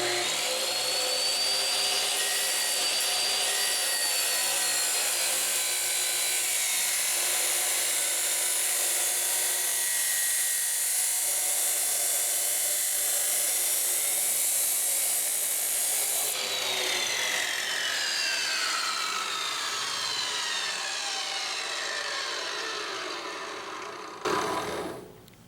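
Metal being cut for a turbo manifold with a power tool held steady in the workpiece, a continuous loud high-pitched grinding whine that shifts in tone partway through and stops abruptly at the end, with no talking.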